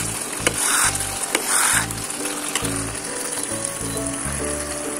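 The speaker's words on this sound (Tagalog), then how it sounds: "hinalo ko na yung ang tuyuan nandun na sa ilalim" Dried fish escabeche frying in a pan, stirred with scraping strokes in a steady rhythm over a constant sizzle, close and loud.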